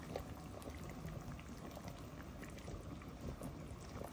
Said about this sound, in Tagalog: Para lang tayo naglalaga dito